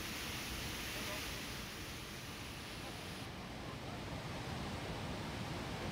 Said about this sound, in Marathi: सोमेश्वर धबधबा पुन्हा एकदा खळाळून सध्या वाहू लागलेला आहे